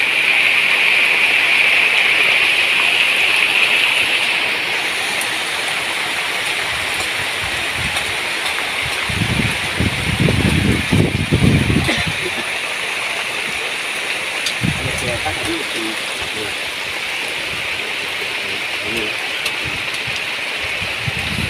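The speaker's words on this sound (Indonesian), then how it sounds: "Ini hujan teman-teman ya tuh." Steady rain falls over a porang crop field, a dense continuous hiss throughout with a few louder bursts of heavier patter midway and no voices heard.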